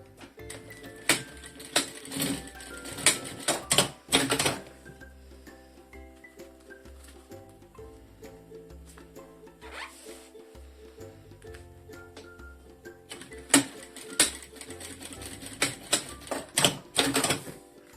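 A sewing machine with a piping foot stitches along fabric piping. Rapid mechanical ticking comes in short bursts at the start and end, with a quieter pause between.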